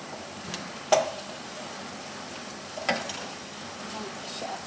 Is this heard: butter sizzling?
yes